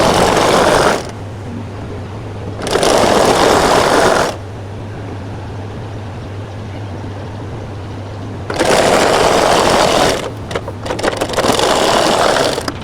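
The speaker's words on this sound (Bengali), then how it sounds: "সেম ভাবে আমরা এই পাশটা এভাবে করে সেলাই দিয়ে দেব।" A sewing machine stitches the side of a pillow cover in loud whirring bursts separated by pauses, with a low hum between runs.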